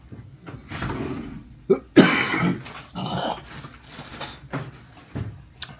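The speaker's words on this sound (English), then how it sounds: "I am still coughing up a bunch of shit" Several harsh, wet coughs in irregular bursts, close to the listener, with a throat-clearing rasp among them and brief quiet gaps between.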